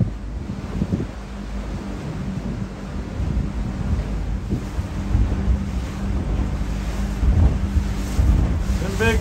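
Lake waves slapping and washing around a houseboat in windy open weather, a steady rumbling water and wind noise that swells slightly, continuous and fairly loud near the hull.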